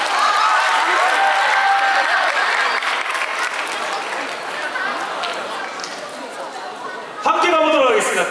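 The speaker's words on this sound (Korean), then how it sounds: "박수 한번 모셔보도록 할게요." Loud crowd applause at a town hall meeting dance performance, with cheering and chatter, fades slightly, then swells again near the end as a voice rises over it.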